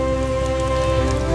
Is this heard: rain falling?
yes